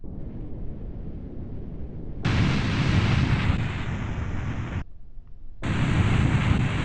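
Rocket explosion in the video game Kerbal Space Program: a loud, sustained roaring burst of noise that cuts off briefly, then roars up again, with no talk over it.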